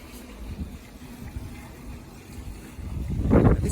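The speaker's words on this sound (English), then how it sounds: "It's super windy today." Blustery wind roars and buffets the microphone, building into a heavier gust near the end.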